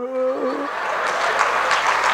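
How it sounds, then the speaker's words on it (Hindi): An audience at a youth expo at Premchand Rangshala in Patna bursts into loud, sustained applause right after a voice's last sung or spoken note fades, the clapping filling the hall evenly for about two seconds. "आप भी ताली बजा दोगे।"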